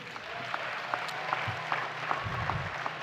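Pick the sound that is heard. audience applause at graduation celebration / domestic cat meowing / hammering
audience applause at graduation celebration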